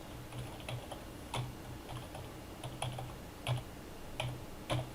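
Soft, close keystrokes on a computer keyboard, tapped in a steady, irregular series of light clicks over quiet background hiss, with no one talking.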